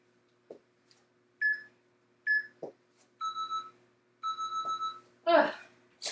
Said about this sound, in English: Oh, love that double beep.